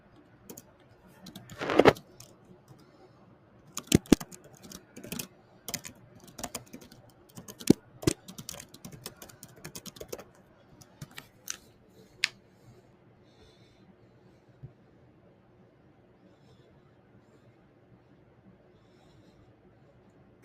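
Typing on a computer keyboard: scattered bursts of sharp key clicks, close and fairly quiet, clustering in the first half and thinning out to sparse taps with long pauses later.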